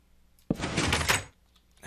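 A door in Minecraft sounds once, a sudden sharp onset followed by a broad creaking swish lasting under a second, then quiet before another sound begins, close and clear with no speech.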